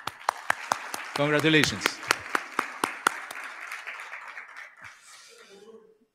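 Steady, evenly spaced claps sound from a small audience at an awards ceremony while a voice speaks briefly over them, then the clapping fades away.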